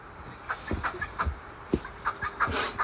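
Chickens clucking on a snowy farm, a string of short, close clucks in an uneven rhythm, fairly loud and with no talking.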